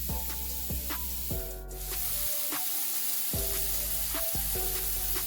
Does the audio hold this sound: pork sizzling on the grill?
yes